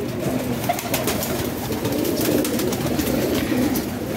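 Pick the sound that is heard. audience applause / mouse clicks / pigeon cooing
pigeon cooing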